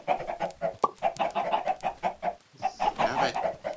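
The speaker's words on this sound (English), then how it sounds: "And I pissed off some chickens." Agitated chickens in the Minecraft video game cluck in a fast, steady run of short repeated calls, loud and close throughout, with a brief squawk near the middle.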